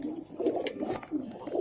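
Pigeons cooing close by in a row of soft, throaty, rolling coos, loud and clear, with no talk over them.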